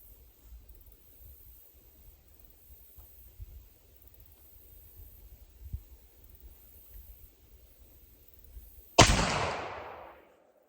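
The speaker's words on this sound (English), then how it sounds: "Let's shoot this 3 times like that and see what happens." A single loud muzzleloader rifle shot cracks out after a long stretch of quiet rustling outdoors, followed by a lingering boom that decays over about a second.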